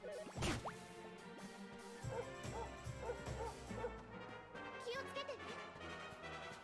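A companion dog in the video game Dragon Quest XI gives a sharp bark, followed by a few softer yips and whimpers set against game music and effects.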